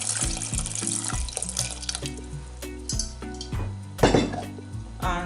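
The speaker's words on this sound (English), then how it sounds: "So put some cold water." Cold water pours into a cooking pot being readied for traditional Nigerian beans soup, a steady splashing run with clinks of pots and utensils throughout, close and fairly loud.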